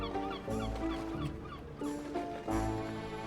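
A person imitates a parrot's squawk with a few harsh, honking vocal cries, loud and close, in a playful mimicry attempt.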